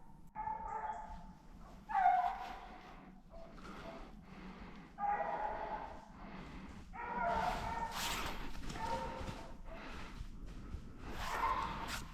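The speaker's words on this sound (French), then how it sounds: "les chiens mènent super bien" Hunting dogs baying during a roe deer drive hunt in the woods, with repeated bursts of yelping and barking at a moderate distance, coming in irregular clusters over a low outdoor background.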